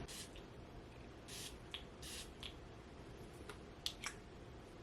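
Perfume is misted from a spray bottle onto skin in a quiet room, several short faint hissing bursts spaced irregularly, close to the microphone with no talk.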